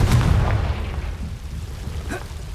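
A Confringo blast spell cast in Hogwarts Legacy, a single booming burst at the start that fades into a low rumbling tail.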